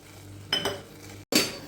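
Sago pearls pour and clatter into a metal pot, with a brief rattle, a pause, then a louder rush of falling bits.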